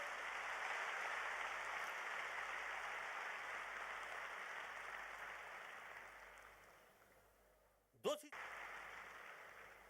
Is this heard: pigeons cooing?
no